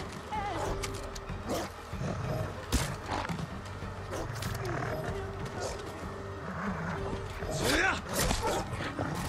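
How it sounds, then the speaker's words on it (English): A dog in Ghost of Tsushima barks and yips repeatedly amid the clatter of a fight with Mongol warriors, its sharp barks close by and mixed with voices talking over the action. "That dog is still alive."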